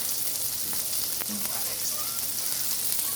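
Vegan gluten-free burgers frying in oil on a stovetop, giving a steady, quiet crackling sizzle with a few faint clinks and small pops, no talking.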